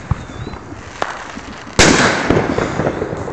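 A New Year's firework bomb goes off with a single loud, sharp bang after a few small pops, then a dense crackling tail that slowly fades.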